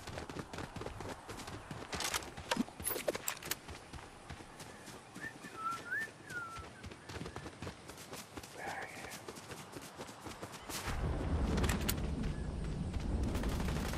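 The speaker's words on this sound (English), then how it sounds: "Footsteps." Footsteps land as a rapid series of sharp, uneven steps, mixed with crisp gunfire-like cracks, before a louder rumbling noise swells near the end.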